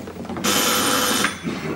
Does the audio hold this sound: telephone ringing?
yes